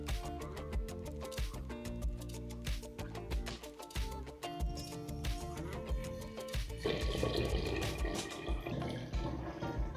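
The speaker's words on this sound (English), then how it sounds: "Now we're going to pour the lemonade into a jug or bottle." Homemade lemonade made from syrup and lemon juice is poured into a jug, with a steady liquid stream, splashing and gurgling. The fill grows fuller and louder toward the end, and no one speaks.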